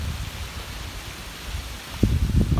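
A small waterfall under a bridge in a park, running with little water, gives a soft, steady, rustling hiss, with a brief louder splashing surge near the end.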